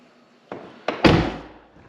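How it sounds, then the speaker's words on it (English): A Tesla Model 3 car door opening: a faint click, a second latch sound, then a louder thunk that fades over about half a second, heard alone. "Okay, you open the door,"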